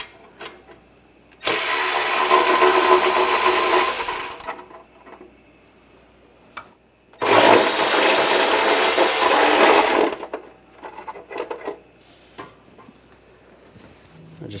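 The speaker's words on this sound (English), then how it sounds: "Using a 10mm socket, take these two bolts out." A ratchet fitted with a 10mm socket backs out two bolts on the exhaust heat shield of a 2013-2018 Hyundai Santa Fe, heard as two loud, steady whirring bursts of a few seconds each with quiet gaps in between.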